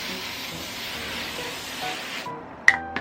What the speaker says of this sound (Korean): 그리고 그다음에요 헤어스프레이로 네, 이거 흔들어가지고 이렇게